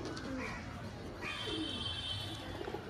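Low, rolling coos from pigeons in a pigeon shop come in a few soft phrases at close range over steady background noise, with no clear talk.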